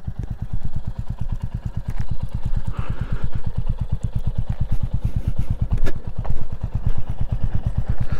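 A Royal Enfield Meteor 350 motorcycle engine runs close by, a loud, steady single-cylinder thump pulsing at a quick even rhythm with slight mechanical clatter on top, heard alone without talk.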